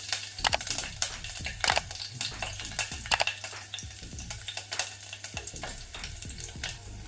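Two green chillies sizzle in half a spoon of ghee, giving a busy, close crackle with steady popping and spattering and no talking.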